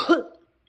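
A single short, sharp cough from an adult man, close to the microphone, fading out within half a second.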